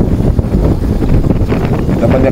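Strong outdoor wind buffets the microphone in a dry breeze, giving a loud, rumbling, gusty roar that swells and dips continuously throughout.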